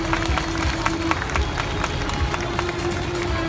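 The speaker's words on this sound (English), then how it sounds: "So let's give our pilot a round of applause." Outdoor crowd applause for an Apache Longbow helicopter pilot at an army open house show, scattered clapping and crowd noise over a steady background rumble and tone.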